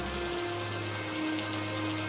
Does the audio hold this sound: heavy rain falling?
yes